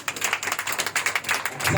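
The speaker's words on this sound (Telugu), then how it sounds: "సంతోష్ గారి గారు చప్పట్లు కొట్టండి." A church congregation at a Sunday service claps hands in a quick, dense patter of overlapping slaps, fairly close and lively, lasting under two seconds.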